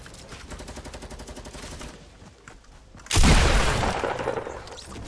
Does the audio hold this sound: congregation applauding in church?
no